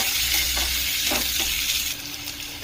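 Onion, green chili, garlic and ginger sauté in a hot pan for a Restaurant-style methi matar sabzi, giving a steady, close sizzle with occasional stirring scrapes throughout.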